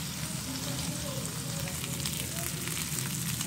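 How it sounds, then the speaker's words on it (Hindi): Beef burger patties sizzle and fry in a pan over a medium-low flame, giving a steady, dense crackle that continues throughout with no breaks. "मीडियम टू लो फ्लेम पे इसको थोड़ा पकाएं ताकि अच्छे से पक भी जाए।"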